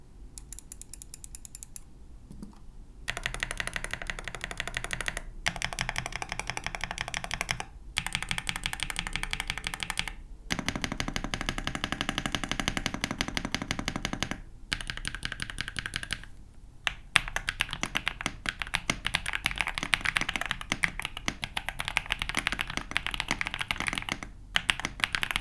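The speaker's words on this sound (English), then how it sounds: "I've got the Cocoa Cream switches on this board, so let's give them a listen." Typing on a Yunzii AL68 hot-swappable keyboard fitted with Cocoa Cream linear switches: rapid, even keystroke clatter in bursts broken by brief pauses, close and alone.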